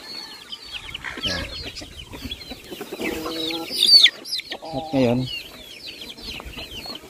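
Chickens and chicks cluck and peep close by while being fed rice bran, busy overlapping calls with a voice speaking briefly among them.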